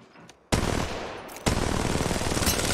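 Automatic weapon fire in the mobile video game Apex Legends Mobile bursts in suddenly as loud, dense, continuous rapid shots, pauses briefly, then resumes and keeps going to the end.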